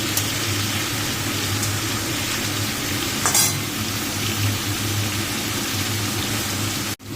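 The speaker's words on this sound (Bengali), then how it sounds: "মাছটা ভাজা হয়নি, মাছটা একটু ভাজা হবে।" Fish pieces frying in hot oil in a pan give a dense, steady sizzle that stays even and close throughout, with one brief louder crackle midway and a sudden drop at the very end.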